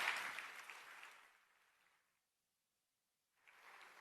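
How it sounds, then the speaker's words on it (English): Audience applause for conference panelists fades out from a loud start to silence, then a softer round of clapping returns at the end. "this is your applause"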